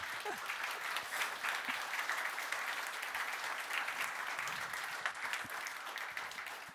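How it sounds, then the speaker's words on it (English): An audience at a tech conference claps after a student rocket design presentation, a sustained round of applause with dense crackling hand claps lasting throughout. "So thanks for the clap."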